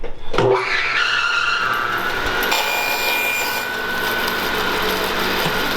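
A Harvey HW615 band saw resaws a wood board, its motor starting up and then settling into a steady, loud whine as the blade cuts. There is no talk.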